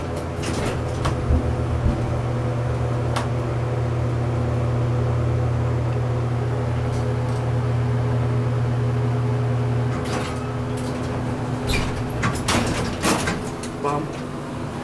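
A vintage Alderson hydraulic elevator in a county hospital runs with a steady low motor hum for about ten seconds, then gives clunks and rattles as it stops, while people speak nearby.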